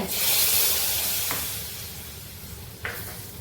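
Steady hissing sizzle of something frying in oil, with two short scraping clinks of stirring.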